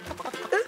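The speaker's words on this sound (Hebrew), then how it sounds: "להוציא את התרנגולות למראה" Chickens give a quick run of clucks, a brief close burst of short fowl calls ending in a louder cackle, in an animated farm scene.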